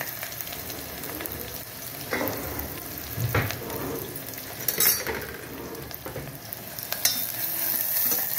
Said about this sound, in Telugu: కరివేపాకు, ఉల్లిపాయలు వేస్తున్నాము.